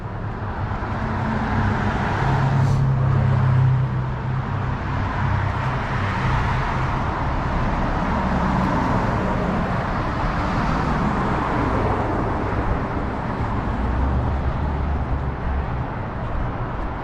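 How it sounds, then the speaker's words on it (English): A speeding car passes along a town street in Kingsport, Tennessee, a loud, steady roadway roar that holds for many seconds amid traffic noise, with no talking. "Got a speeding car here."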